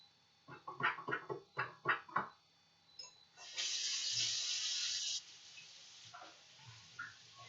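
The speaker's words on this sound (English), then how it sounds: "so I'm going to wash my hands" Hands being washed under a running tap: a steady hiss of water into a sink for about two seconds, preceded by a series of short, distinct knocks and clatters nearby, with faint scattered sounds afterward.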